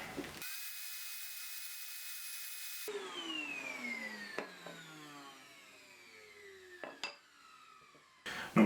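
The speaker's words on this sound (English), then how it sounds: "you can easily size them down on a table saw if you have a crosscut sled" A table saw fitted with a crosscut sled cuts rake handle dowels: a loud steady motor whine, then a long descending hum as the blade spins down, broken by a few sharp knocks.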